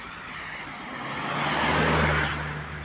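A car driving over a freshly paved asphalt road, its smooth tyre and engine noise swelling as it passes nearby and then fading, with a brief louder bump at the end.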